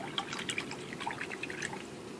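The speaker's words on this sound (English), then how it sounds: "I'm going to rinse out my brush" A paint brush being rinsed in a cup of water during painting, giving soft close dripping and swishing trickles in a quiet room.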